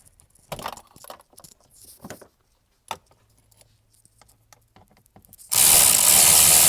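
A ratchet works loose small bolts under a silver dash bracket on a 2014 Ford F-150, giving short bursts of clicking and metal rattling close by with pauses between them, then a sudden loud, steady rushing noise at the end.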